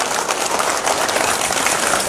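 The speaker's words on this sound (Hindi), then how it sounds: "जोरदार तालियां।" A crowd at a Jammu gathering for daily wage workers claps loudly and steadily, a thick continuous wash of applause with no voices on top.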